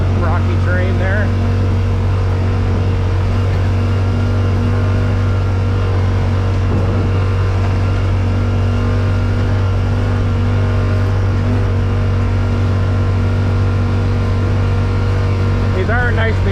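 A 2024 Yamaha Wolverine X2 1000 side-by-side crawls over rocky terrain, its engine droning loud and constant with a deep steady hum and faint rattles from the ride throughout.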